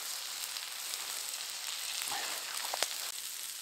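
Food sizzles and crackles steadily in a pan over a campfire while Lawry's seasoning is stirred in, with a few sharp scraping clicks from the stirring near the end.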